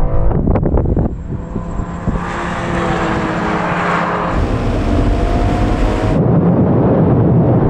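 A BMW M2, Audi RS3, Mercedes-AMG A45 S and Porsche Boxster GTS launching in a half-mile drag race, heard as a loud engine roar with a downshift at the start, building into a sustained rushing drone with wind noise.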